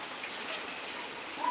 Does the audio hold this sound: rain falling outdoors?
yes